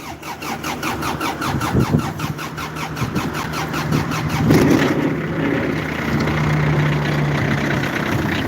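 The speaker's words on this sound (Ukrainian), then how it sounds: "Трактор заводиться, трактор працює." A mini tractor engine is cranked by its starter in a rapid, even rhythm for several seconds, then catches and settles into a loud, steady diesel-like idle close to the microphone.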